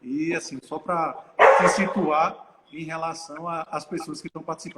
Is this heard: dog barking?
yes